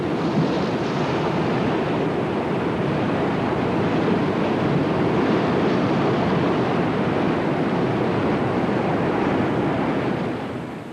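Cataract rapids on the Zaire River above the Inga Barrage, with 30- to 40-foot standing waves, roar as a loud, dense, unbroken rush of churning water, steady and close for the whole stretch before easing slightly at the end.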